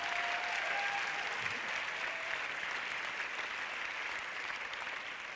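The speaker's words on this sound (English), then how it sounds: "Big round of applause." A large audience at the LUX Audience Award 2025 ceremony claps continuously, a dense, even wash of applause that holds steady throughout without fading.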